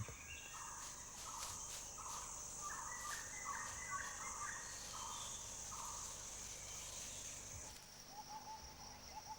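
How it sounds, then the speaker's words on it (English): Red jungle fowl, the wild ancestor of domestic chickens, calling in a forest clearing in Manas, with repeated short hooting calls over a steady insect drone and forest ambience. "The ancestor of every domestic chicken in the world, the red jungle fowl, struts in a clearing"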